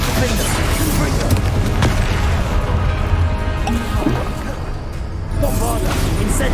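Explosive spell blasts in the wizarding video game Hogwarts Legacy, a steady barrage of booming, crashing impacts with dense low rumble throughout, loud and continuous with brief lulls amid the combat.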